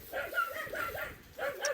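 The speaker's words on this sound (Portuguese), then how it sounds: "Cachorro!" Dog on a cattle ranch gives a few quick, close yips and barks in a short burst, with rough outdoor background noise.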